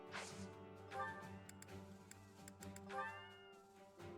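Cat meows in the video game Fire Emblem Three Houses, several tonal calls rising and falling over a steady game music backdrop, moderately loud and close, with brief clicking ticks between them.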